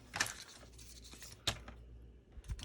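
A sheet of tinfoil being cut down to about 4 by 5¼ inches for a layered greeting card: three quiet, crisp crinkling snips spaced across a couple of seconds, with no talk.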